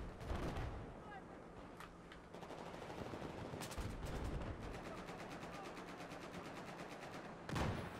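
Rapid automatic gunfire from the Battlefield 4 video game crackles in dense repeated bursts through a busy battle soundscape, with sharper volleys near the start and end and a few faint voices in the mix.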